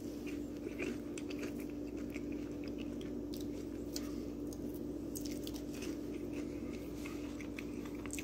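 Fries dipped in homegrown ketchup are chewed close up, soft wet munching and small crunches repeating over a steady background hum, with no talking.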